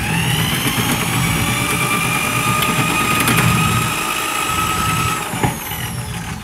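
A RIDGID K45 drum machine runs in forward with auto feed engaged, giving a steady, loud motor whine and rattling cable churn that continues throughout, with a brief knock near the end.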